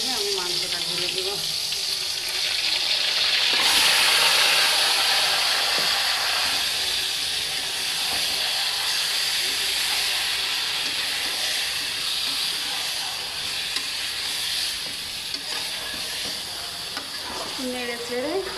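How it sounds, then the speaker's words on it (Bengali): Chopped tomato sizzles and hisses in hot oil in a pan while chicken curry is being cooked, a steady frying crackle with stirring, and a voice is heard briefly near the start. "টমেটোটা একটু ভাজা ভাজা করে নিয়ে আমি মাংসটা ঢেলে দেব।"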